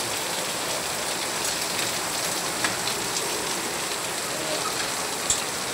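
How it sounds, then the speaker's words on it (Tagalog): Heavy rain pours down as a dense, even roar of hissing drops on surfaces, steady and loud throughout with only a couple of sharper drip taps. "Pakita ko sa inyo guys, yung lakas ng ulan, no? Grabe, lakas guys."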